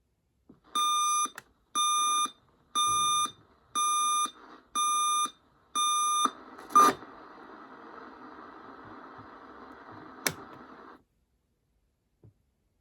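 A thrift-store alarm clock in buzzer mode beeps in six evenly spaced bursts, then switches to a loud continuous buzz that runs several seconds before cutting off.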